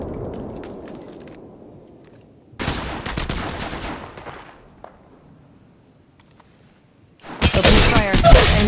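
Gunfire crackles in Apex Legends Mobile: a rapid burst of shots fades out, a quiet gap follows, then a louder, denser volley erupts close by after an opening low rumble.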